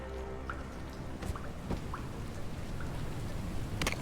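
Torrents of rushing water from the video game Jenny LeClue, a steady broadband wash with scattered drip-like splashes and occasional sharper spatters riding on top, continuous and fairly close throughout.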